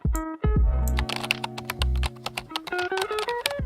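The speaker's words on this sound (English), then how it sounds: "If I type one more complex query into the search bar" Quick taps on a computer keyboard type out a search query, a close run of sharp clicks in an uneven rhythm, sitting over a sustained tonal hum with no talking.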